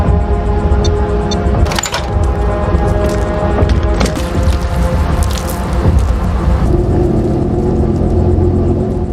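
A car pulls into a petrol station, its engine a steady low rumble with a few sharp cracks and knocks over a continuous hissing wash, no talking.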